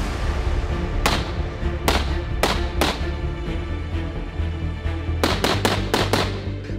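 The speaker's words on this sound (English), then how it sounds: "Watch this gun run" A TR-1 rifle fitted with a Surefire SOCOM muzzle brake firing outdoors: sharp loud shots, singly and in quick doubles and triples, cracking over a steady background rumble.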